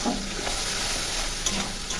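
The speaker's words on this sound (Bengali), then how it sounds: "দিয়ে মশলাটাকে সুন্দর করে কষিয়ে নেব" A steady sizzle of spice paste with salt being stir-fried in a pan for a soybean and potato curry, with faint scraping from stirring, continuous and fairly close.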